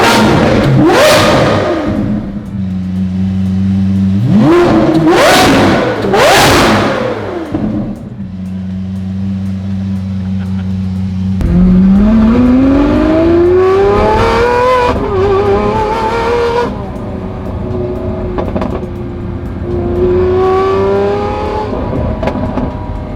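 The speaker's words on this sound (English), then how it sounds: "Can you rev the car a little bit?" Lamborghini SVJ fitted with a Gintani exhaust revving hard, several sharp loud throttle blips early on, then a long rising engine sweep and more revs, close and loud with no talk.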